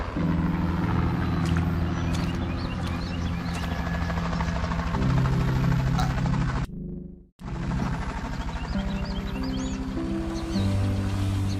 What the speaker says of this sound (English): Were the rotors moving on that helicopter?